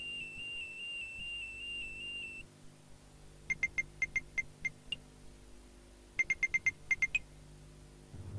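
A burglar alarm sounds in two bursts of rapid, shrill electronic beeps, each burst a quick run of about eight pulses, close and loud, after a steady warbling tone at the start.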